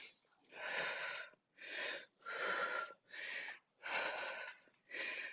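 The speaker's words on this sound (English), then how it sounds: "I know you can hear me breathing." Heavy, rhythmic breaths close to the microphone during a core workout, six strong exhales with short pauses between them, like someone working hard.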